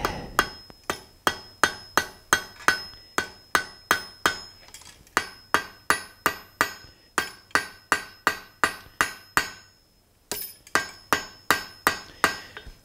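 A blacksmith hammers a hot steel poker to forge-weld it, with a long, steady series of sharp ringing metal strikes in quick rhythm, a brief pause near the end before the blows resume.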